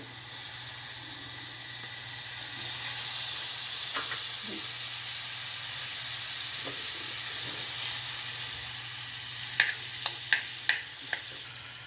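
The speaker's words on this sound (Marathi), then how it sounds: "कढी गरम झाली आहे आपली थोडं बटर घालूया" Butter melts in a hot kadhai for pav bhaji with a faint, steady sizzle and hiss. A few soft clinks and taps come near the end, and no one talks.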